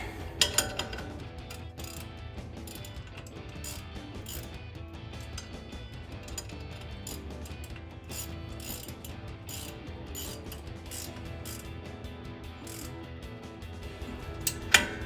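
Ratchet wrench working on the front shock bolts of a RAM 1500 pickup truck, heard as a steady run of quick clicking pawl ticks, close and continuous, with a few louder metallic clanks and no talking.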